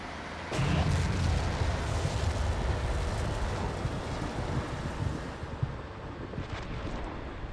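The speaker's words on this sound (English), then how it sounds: "Got enemy indirect fire vicinity Alpha 5-2, as in their actual artillery assets." Steel Beasts Pro PE artillery fire: a heavy boom opens into a long, rumbling roar that slowly fades, with faint distant impacts and wind-like noise underneath; no voices.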